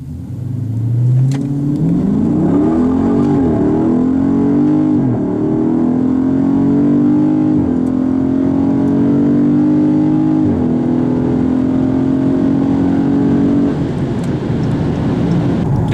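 A 2016 Dodge Charger Scat Pack accelerates hard down a quarter-mile drag strip at night, its engine note climbing steadily through the gears with brief dips at each shift, loud and continuous throughout.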